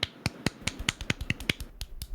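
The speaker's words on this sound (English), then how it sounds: "How's this golf clap?" A light golf clap: a dozen or so sharp, thin claps at a steady, unhurried pace, close and alone.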